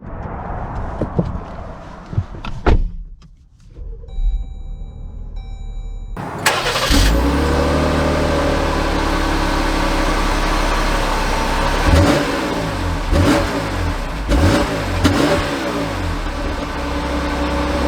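A 2022 Dodge Durango SXT SUV starts up after some thumps and clicks from inside the cabin. The engine catches with a loud roar, then settles into a steady hum that surges as the vehicle pulls away.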